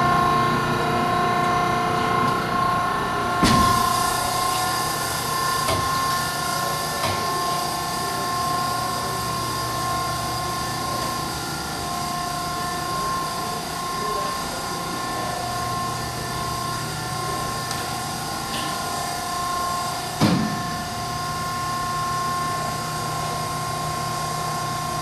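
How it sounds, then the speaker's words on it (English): A pump runs on an automatic clean-wash plating line, a steady smooth mechanical hum with constant tones, joined by a couple of brief clanks, close by and with no speech. "Here's the actual pump. It's quiet, runs smooth. It's a nice unit."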